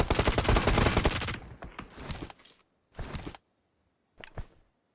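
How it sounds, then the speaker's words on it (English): Rapid automatic gunfire from a shooter video game, a loud sustained burst for over a second followed by three shorter separated bursts, with no talking. "My guy, you're shooting behind his vehicle."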